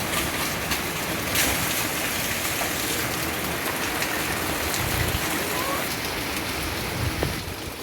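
Steady rain patters heavily and evenly on a nearby tarp, a constant hiss of drops with occasional louder taps.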